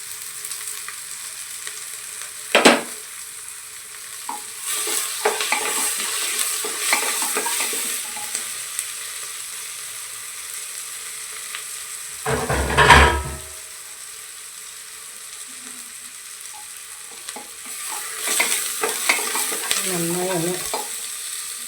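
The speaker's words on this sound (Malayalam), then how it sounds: "ഉള്ളി വറങ്ങി വന്ന് അതിന് ശേഷം നമുക്ക് ഈ മല്ലിയിലയും കറിവേപ്പിൻ്റെ അലയും ഇതിൽ ചേർക്കാം" Onions frying in a pan for chicken curry, a low steady sizzle with scattered scraping and stirring clatter, including a loud metallic clunk midway, heard close with no voices.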